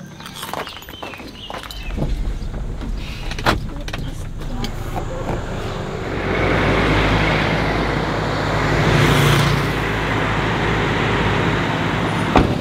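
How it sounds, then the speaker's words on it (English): Road traffic passes a roadside bus station in Tana Toraja, Sulawesi, with engines rumbling and a loud vehicle swelling in the second half, along with scattered knocks and footsteps and people talking nearby. "this is our bus station in the middle of the road here in Tana Toraja"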